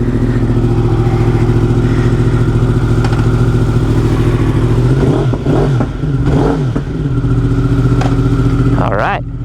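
A Yamaha R1M sport motorcycle engine idles loud and steady up close, then blips through several quick revs near the middle and a sharper rev at the end.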